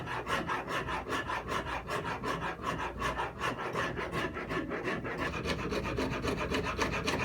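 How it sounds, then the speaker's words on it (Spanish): A hand file rasps against the steel tang of a Brisa Camper 125 survival knife during handle fitting, giving a quiet, steady run of rhythmic back-and-forth strokes with no voices. "ya la lima suena diferente, resbala, porque la espiga es más dura"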